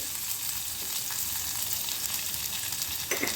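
Onions and garlic sautéing in a pan for Tamil kathamba vatha kuzhambu, a dense continuous sizzle with faint stirring scrapes, close and steady, no voices.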